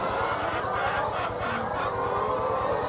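Laying hens, about six thousand kept in tiered cages in a large chicken shed, cluck and chatter in a dense, continuous chorus, with a few louder calls rising from the steady din.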